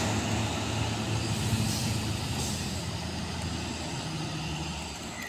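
A heavily loaded Fuso truck rolls past on the road, a steady rumbling engine drone with broad road noise that holds for several seconds and eases slightly as it goes.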